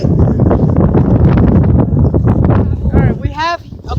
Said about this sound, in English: So this makes a windy day.